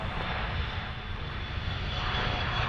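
An aircraft at an airport takes off from the runway with a loud, continuous engine roar that holds steady and grows slightly toward the end, heard alone without voices.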